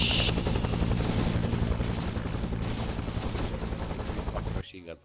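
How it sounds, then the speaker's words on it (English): Machine gun fire in the military shooter Arma 3: sustained rapid bursts of gunfire mixed with helicopter rotor drone, loud and continuous before cutting off abruptly near the end, with voices talking. "Fucking machine guns covering us."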